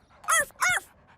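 A cartoon dog from Blaze and the Monster Machines lets out two quick, loud, close barks in a row, then falls silent.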